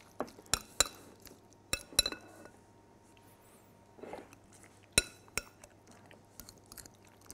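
Cucumber and yogurt salad stirred in a bowl, giving scattered soft clinks and wet squishing scrapes of a utensil against the bowl, close and quiet, with pauses between strokes and no talking.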